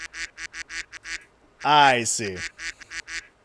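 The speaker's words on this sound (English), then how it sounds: "I am getting the duck alarm, letting me know that we might need to take a quick commercial break" A duck quacks in a quick run of short nasal calls, then one long drawn-out honking quack, then more short bursts, loud and close, with a man's brief spoken reply in between.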